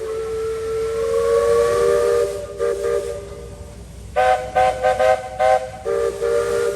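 A steam train whistle at Magic Kingdom sounds a long, steady blast, then a run of short, repeated toots, loud and fairly close.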